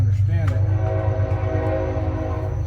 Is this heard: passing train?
yes